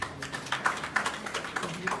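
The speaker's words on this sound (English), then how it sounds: "I think you should give him another round of applause." An audience at a presidential aspirant's speaking event gives a round of applause, with dense, moderately loud overlapping claps continuing steadily throughout.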